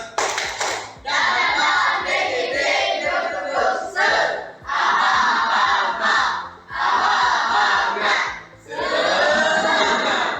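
Students in a classroom perform the tepuk semangat spirit clap, four loud bursts of patterned group clapping with shouted chanting between short pauses.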